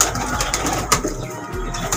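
A handsome pet pigeon on a Sialkot rooftop loft gives soft, low cooing close by, repeated in a few short bursts with slight wing flutter and background noise, no talking.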